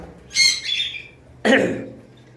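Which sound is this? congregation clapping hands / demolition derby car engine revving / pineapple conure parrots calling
pineapple conure parrots calling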